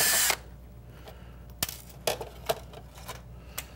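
A power screwdriver takes small screws out of an LCD display panel: a short loud motor burst at the start, then a series of light clicks and brief taps as the screws come loose, close by with no talking.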